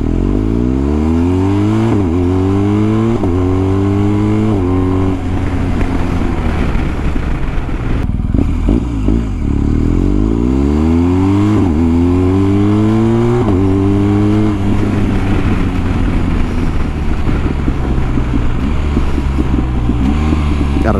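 A BMW R1250GS motorcycle with a BT-Moto stage 1 exhaust makes repeated runs past outdoors, loud throaty revs climbing through the gears, a brief lull, then another pass and a long fading pull.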